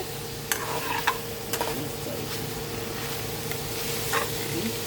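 Jambalaya browning in a pan, a continuous close sizzle with several sharp stirring scrapes and clicks on top, no voices.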